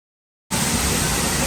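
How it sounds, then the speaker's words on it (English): A waterfall is heard from right behind the falling water on a trail, a loud, dense, steady roar that begins abruptly after a moment of silence. "Made it behind the waterfall."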